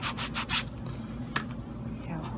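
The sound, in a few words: light sanding of perler bead craft before gluing rhinestones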